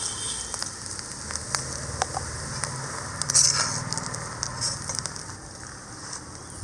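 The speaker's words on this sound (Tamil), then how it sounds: "செம்மீன் தேங்காய் எல்லாமே ப்ரௌன் கலராக வர்றதுக்கு ஆரம்பிச்சிருச்சு." Prawns, grated coconut and cumin dry-roasting in a pan in a village kitchen, giving a faint, steady crackle and sizzle with scattered sharp pops and ticks, heard alone without talking.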